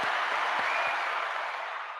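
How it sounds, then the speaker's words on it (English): A burst of applause sound effect during a livestream, dense clapping that fills the moment and then gently tapers off. "So let's give Mark a round of applause."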